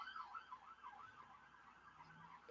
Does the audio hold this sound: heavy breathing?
no